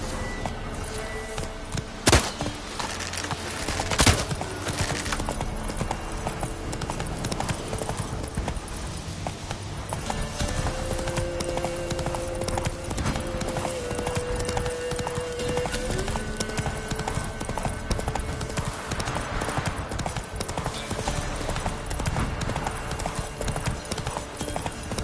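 Horse hooves clip-clop steadily in The Witcher video game, a continuous rhythmic trot over a busy game soundscape with occasional louder thuds near the start.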